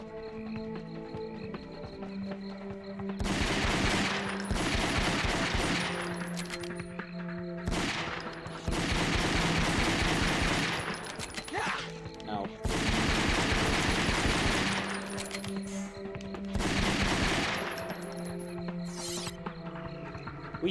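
Bursts of rapid gunshots in the video game Ghosthunter, loud volleys several seconds long that alternate with short gaps, over a steady low musical drone, and a voice talks between the bursts.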